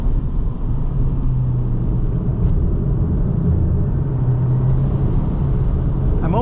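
A 2025 Subaru WRX tS, a 3,400-pound car with 270 horsepower, cruises along a road in third gear, giving a steady, loud low engine drone and road rumble that runs unbroken throughout.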